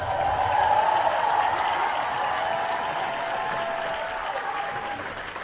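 Outdoor crowd at a Fort Benning Ranger graduation bursts into sustained applause, loud at first and then tapering slightly while remaining a dense, even wall of clapping with scattered cheers.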